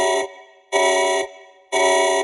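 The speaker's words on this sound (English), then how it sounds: "that's the alarm when new 100 Girlfriends timeline evidence releases." An alarm sound effect: three loud, evenly spaced blaring tones like a buzzer or horn, each lasting about half a second with brief gaps between.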